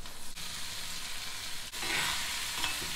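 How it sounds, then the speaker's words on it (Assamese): Potato and cane shoots fry together over low heat in a pan, giving a continuous soft sizzle with occasional stirring scrapes and a brief pause partway through. "খুব কম জুইত ভাজি থাকিব লাগিব"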